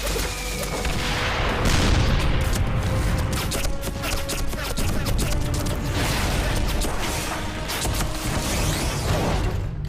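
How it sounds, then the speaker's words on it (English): Gunfire and explosions in a World War I battlefield shootout from the martial arts film Legend of the Fist, a dense, loud barrage of bursts and booms with clanking action sounds running without pause. "It opens with an excellent parkour chase / fight scene / like action shootout scene."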